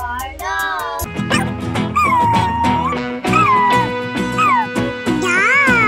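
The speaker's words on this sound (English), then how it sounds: "D for dog." A dog barks and yips in a children's phonics alphabet song, with several short barks and whimpers set against busy music and singing.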